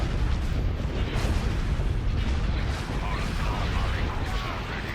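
Artillery fire in a Star Wars strategy video game, a dense, continuous roar of booms and blasts with heavy low rumble, loud and unbroken throughout, with voices mixed into the din.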